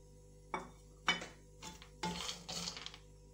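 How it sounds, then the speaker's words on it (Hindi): Almonds dropped into a pan of hot desi ghee make a few quiet clinks and rattles, followed by a soft, brief sizzle close by with no talk. "अब पैन के अंदर मैंने थोड़ा सा और देसी घी डाला और इसके अंदर ये मैं बादाम डाल दूँगी"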